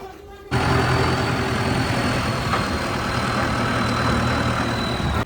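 A tractor's engine runs loud and close with a steady, dense rumble that starts abruptly and holds at an even level as the tractor is driven inside.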